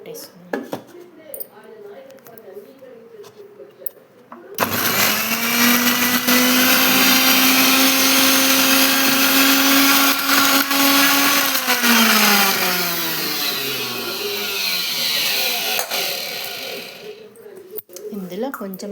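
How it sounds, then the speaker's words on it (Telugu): Mixer grinder grinding onion and garlic for a chutney, loud steady motor whine running for about twelve seconds with a falling pitch as it winds down, and quieter kitchen sounds before and after. "మిక్సీ అయితే పట్టేసుకున్నాను."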